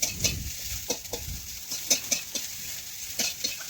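Rice stirred and roasted in hot sand in a pan, with soft gritty scraping and scattered light crackles in an uneven rhythm, fairly quiet, with no voice.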